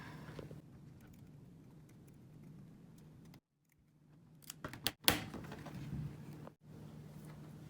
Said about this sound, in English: I'll be using my paper scissors to cut this out